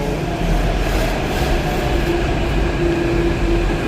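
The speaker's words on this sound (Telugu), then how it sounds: "ట్రైన్ వచ్చింది మెట్రో వచ్చింది" A metro train in Hyderabad rumbles loudly and steadily nearby as it arrives, a deep continuous roar with a faint whining tone riding over it.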